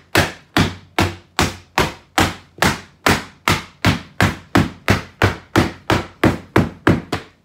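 Steady series of about sixteen sharp hammer blows on a bucket lid, evenly spaced and close, each a crisp thud with a quick decay and no talking.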